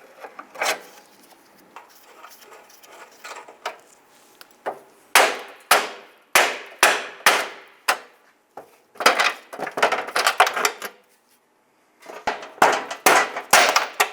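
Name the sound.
pliers removing retaining lock stars from bumper bracket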